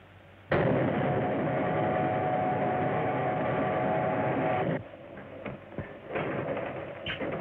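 A train running in an old film-serial chase, a sudden loud onset of dense, roaring rumble and clatter that holds steady, then thins and turns more uneven with scattered knocks toward the end, with no voices.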